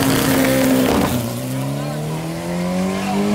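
Rare Volkswagen Beetles accelerate hard at a drag race at Interlagos, engines roaring loudly and continuously with rising tones as they pull away, a dense wash of motor noise throughout.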